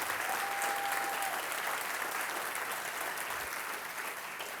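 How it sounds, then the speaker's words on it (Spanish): Steady, dense applause from a church congregation fills the room, continuous and even for several seconds, fading only slightly toward the end. "Dale fuerte ese aplauso al Rey de Reyes."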